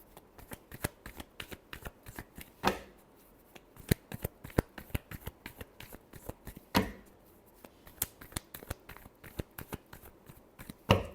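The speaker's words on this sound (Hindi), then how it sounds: "last shuffle" Tarot cards being shuffled close up, with quick riffling patters and sharp slaps in an irregular rhythm and a few louder bridge-like bursts, quiet and alone without talk.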